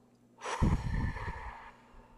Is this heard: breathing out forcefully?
yes